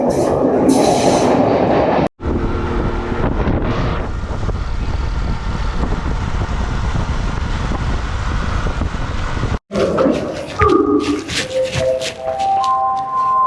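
The Yal Devi train in Sri Lanka rumbles past close by at speed with a loud, steady rolling roar, followed by clattering and bright tonal squeals as it continues.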